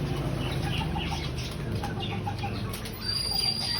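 Breeder hens cluck and flap their wings after a bath in hot weather, a steady close flurry of feathers and soft clucks with no talking.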